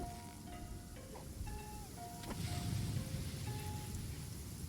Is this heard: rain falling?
yes